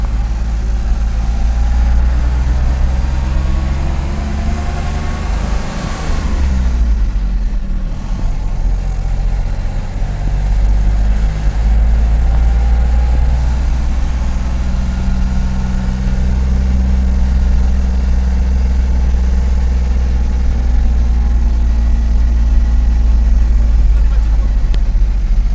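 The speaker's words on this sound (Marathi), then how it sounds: "रोड चालू आहे, तर त्यामुळे बरेच गाड्या अडकून होत्या." Vehicles sit stuck in traffic at road works, with a steady low engine rumble and idling throughout, a louder vehicle surge passing briefly, and someone talking over the continuous drone.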